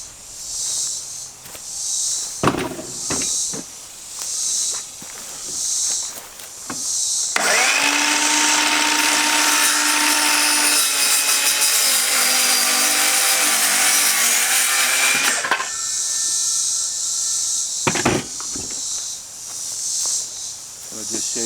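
A wooden board trimmed to fit on a chicken tractor coop build: a loud power saw whines steadily through the middle stretch, framed by scattered knocks and handling sounds with outdoor insect chirping in the background.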